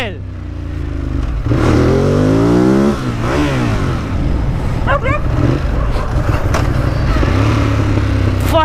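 A Ducati Monster 821 motorcycle revs and accelerates hard up through the gears, its loud, close engine note rising in repeated sweeps, with a rider shouting and yelling over the engine.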